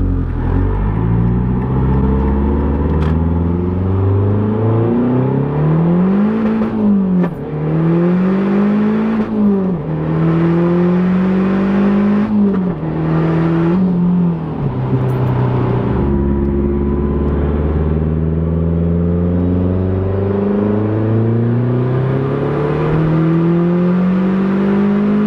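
A Mazdaspeed 3 with a big turbo accelerates hard in first gear, its exhaust loud and close, the engine note rising and falling through repeated revving pulls with turbo whir over a deep rumble.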